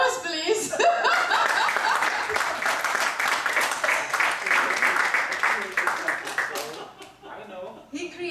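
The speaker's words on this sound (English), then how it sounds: "let's give you an applause, please" Audience at the AgoraCon 2019 conference in Lisbon breaks into sustained applause with scattered laughter, loud and dense for about seven seconds before thinning out at the end.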